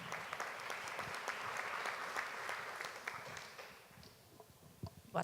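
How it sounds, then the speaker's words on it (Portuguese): A panel audience claps for a speaker at a journalism event, a soft, steady patter of hands that thins out toward the end. "uma salva de palmas para ela"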